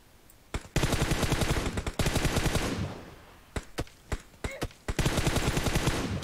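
Gunfire in PUBG Mobile on the Sanhok map: long bursts of rapid automatic fire alternate with a few single sharp shots, loud and close, with no talking.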